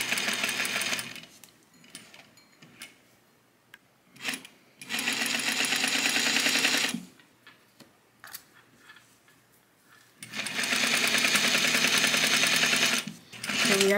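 A sewing machine stitches around the neckline of a jersey knit dress in three loud, steady bursts of rapid mechanical running, separated by quiet pauses with faint handling sounds.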